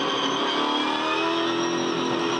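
V8 Supercars race engines scream at Yas Marina during a night race, a steady high-pitched roar held at distance without a break.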